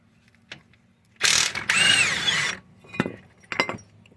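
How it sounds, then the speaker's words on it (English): A 19mm socket ratchet works on the caliper bracket bolts of a 2008 Hyundai Santa Fe during front brake work, giving a loud, close burst of mechanical grinding and clicking, then a few shorter clicks. "Using a 19mm on the back of the caliper bracket to get the bolts out."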